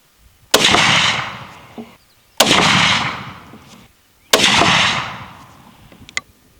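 Three sharp, loud rifle shots from a 450 Bushmaster firing 225-grain FTX loads, evenly spaced about two seconds apart, each with a long rolling echo tail, outdoors and close, with no talking.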